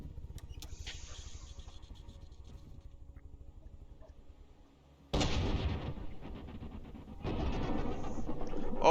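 A damaged combat robot named Wasp fires her weapon repeatedly in an arena battle, the loud rapid bursts coming in two long stretches after a quieter opening of mechanical hum.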